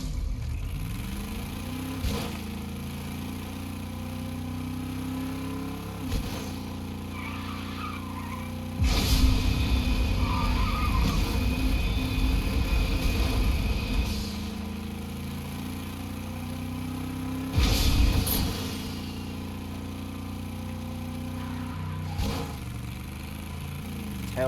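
The Rocket League RIPPER car driving in Fortnite, a steady mid-pitched engine hum with revving surges and two louder bursts of acceleration and tire squeal, heard alone without talk.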